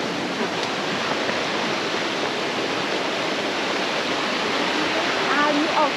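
Steady, dense rush of a waterfall in Tobago roars close by, continuous broadband noise with a faint voice near the end.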